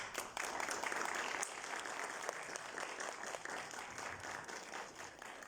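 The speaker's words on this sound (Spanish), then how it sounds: "pido a ustedes un fuerte aplauso" Audience applauding at a press conference in Querétaro welcoming the diocese's bishop: brisk, sustained clapping from a modest crowd, fairly faint and distant, easing gradually over several seconds.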